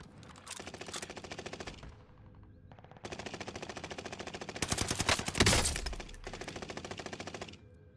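Rapid machine gun fire rattles in Call of Duty on the Fortune's Keep map, long sustained bursts with short gaps and a louder, denser stretch in the middle, close and steady.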